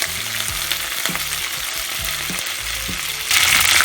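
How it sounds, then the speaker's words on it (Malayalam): Small onions and curry leaves sauté in a hot pan with a steady close sizzle and crackle, punctuated by soft scraping stirs and a louder hiss near the end. "നന്നായിട്ട് നമുക്ക് വഴറ്റിയെടുക്കാം"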